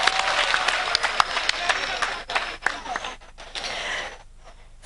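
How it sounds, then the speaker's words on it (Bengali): An audience at a concert event claps for a short stretch, the applause fairly loud at first and then thinning out and fading toward the end. "একটু জোরে হাততালি"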